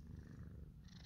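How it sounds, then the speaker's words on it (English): Cat purring close up, a soft continuous low rumbling purr, quiet and alone. "Least this one's purring."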